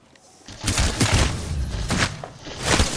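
Rapid gunfire bursts in an Apex Legends firefight, loud dense volleys and thumps packed tightly together after a brief quiet start, no speech.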